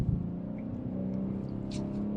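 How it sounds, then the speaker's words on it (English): A 2024 BMW M4 Competition xDrive engine hums and revs while driving in manual mode on a hilly back road, a steady low drone heard from inside the car. "That engine sounds so good"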